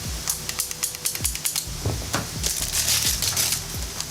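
A latch on a tool case is popped open with a quick run of clicks, snaps and rattling plastic and metal, dense and close up, with a few sharper knocks.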